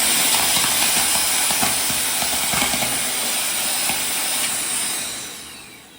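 An Agaro vacuum cleaner runs close by, a loud, steady broadband whoosh and hiss with a faint whine on top, holding constant for several seconds before it begins to tail off at the end.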